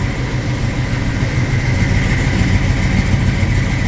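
A 1955 Chevrolet 3100 pickup truck engine idles steadily and close by, a low, even rumble that holds without revving and with no voices over it.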